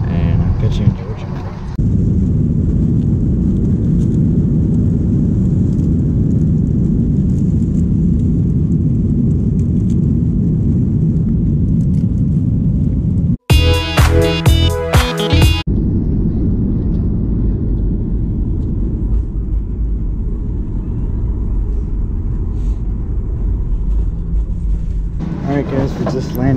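Steady, loud low-frequency rumble of an airliner cabin in flight, a continuous engine and airflow drone that runs throughout, briefly interrupted by a short burst of other sound partway through.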